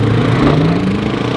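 A quad bike's engine passes on a busy city street among loud supercars, a steady close mid-pitched drone that rises slightly in pitch as it goes by, loud throughout with no talk.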